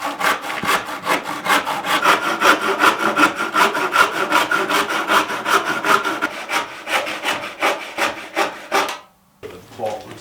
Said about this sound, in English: We can trim them off with a handsaw